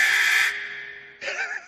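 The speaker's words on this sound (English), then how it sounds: "gotta get the timer in for the buzzer" A loud electronic buzzer tone sounds for about half a second, followed after a short gap by a second harsher, wavering buzz.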